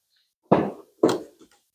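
The door of a Genesis G70 car swings shut with two solid thuds about half a second apart, close and loud against silence, the second sounding like the latch catching.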